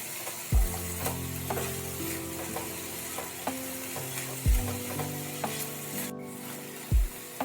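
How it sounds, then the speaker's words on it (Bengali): Mixed vegetables with onion and tomato frying in a pan: a constant sizzle runs throughout, with a spatula scraping and stirring in several sharp knocks at irregular intervals, close and fairly loud, no voices. "সমস্ত সবজির সাথে পেঁয়াজ, টমেটো ভালোভাবে মিশিয়ে দিয়ে একটু ফ্রাই করে নিতে হবে।"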